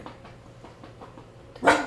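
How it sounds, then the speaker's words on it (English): A dog at home lets out one loud, close bark near the end, after faint muffled noises in the room, with no speech. "Oh, I'm sorry about the dog barking."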